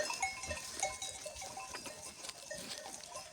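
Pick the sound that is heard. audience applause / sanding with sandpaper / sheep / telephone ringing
sheep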